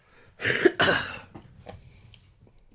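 A single person coughs twice in quick succession, a sharp close burst, during a Sonic Heroes gaming stream; quieter talk and breathing follow.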